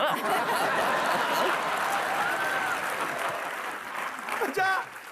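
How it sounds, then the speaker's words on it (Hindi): Studio audience clapping at a Hindi comedy show taping, a steady wash of applause mixed with chuckles and laughter, tapering off near the end. "तालियां बजा रही है"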